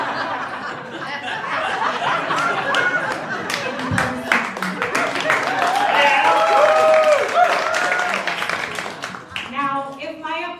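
Audience applause and scattered chuckles fill a room, the clapping swelling and fading over a mix of crowd murmur, with a voice speaking near the end.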